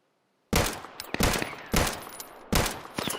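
Bursts of video game gunfire crack out in four loud, sharp volleys after a silent start, each followed by a brief ringing tail, with a few scattered single shots in between.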